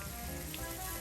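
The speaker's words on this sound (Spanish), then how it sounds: "Le damos una vuelta. y vamos a nacarar el arroz." Arborio rice toasting in a hot pan for a shrimp and chorizo risotto, giving a steady, dense sizzle that runs unbroken throughout with no voices.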